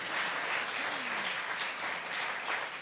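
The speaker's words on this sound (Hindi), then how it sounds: "तालियां बजाइए दंगल के लिए।" A studio audience applauds for the film Dangal during an interview, a fairly faint, even wash of clapping held steady throughout with a brief tonal murmur partway through.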